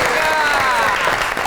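Studio audience applause on a Pakistani television comedy talk show, a dense steady wash of clapping sustained at even loudness throughout.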